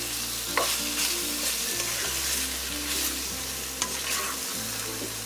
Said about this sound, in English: you're going back in with the broccoli as well as the bok choy now. And you're just gonna stir that into your ginger,